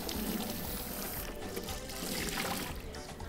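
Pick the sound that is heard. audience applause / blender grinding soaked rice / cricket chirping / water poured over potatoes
water poured over potatoes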